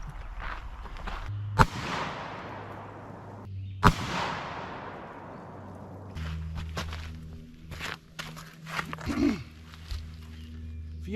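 Two sharp, loud blasts from a Stoeger 3000M 12 gauge shotgun firing Fiocchi Foster-style slugs at an outdoor range, spaced about two seconds apart, each followed by a long decaying echo, then quieter shuffling and handling noises.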